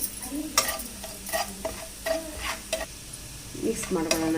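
A spicy egg mixture with chili and salt sizzles on a hot tawa while a spatula scrapes and stirs in quick, uneven strokes, close up and fairly quiet.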